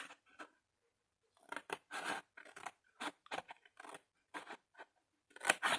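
Scissors cut straight through paper or card in a series of short crisp snips, close and clear, with small pauses between bursts and no talk.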